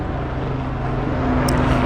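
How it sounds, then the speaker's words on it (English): A helicopter passes overhead, producing a steady, loud droning roar with a low, constant hum throughout and no one speaking. "pardon the helicopter."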